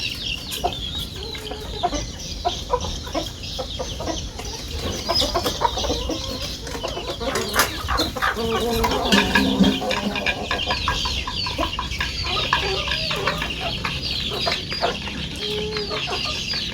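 Jungle fowl kept in a backyard pen clucking repeatedly, several birds making short scattered calls and chatter with a few louder bursts over a quiet outdoor background.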